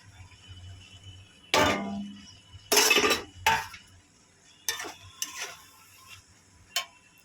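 Fried egg, onion, chilli, capsicum, beans and tomato being stirred into boiled Maggi noodles in a pan, with several sharp metallic clinks and scrapes of a spoon against the pan, clear and close, separated by quiet pauses.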